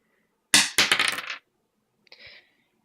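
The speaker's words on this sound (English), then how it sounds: "So I'm rolling again 1 dice." A single die rolled during an Arkham Horror: Innsmouth Disaster board game clatters sharply across a hard surface with a quick rattle, then a faint second tap about a second later.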